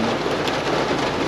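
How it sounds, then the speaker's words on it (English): Steady rain falls outdoors on a ranch during terrible weather, a dense constant hiss of drops close by with a faint rumble underneath. "terrible weather. Rain's falling"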